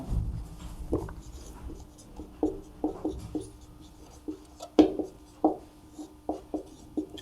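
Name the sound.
writing math formulas by hand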